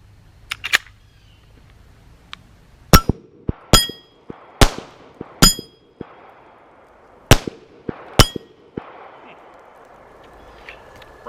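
A Hi-Point C9 pistol fires Monarch 9mm hollow point ammunition outdoors, with about a dozen sharp, loud gunshots in irregular bursts and clusters, separated by brief quiet gaps.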